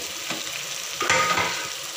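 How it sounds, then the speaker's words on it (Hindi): Tomatoes and green chilli paste frying for a chicken biryani masala, a steady broadband sizzle with a louder burst of hissing and stirring scrapes partway through, close and with no talking. "इनको मिक्स कर लेंगे और अच्छी तरह से इनको भून लेंगे।"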